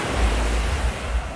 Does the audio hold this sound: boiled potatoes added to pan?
no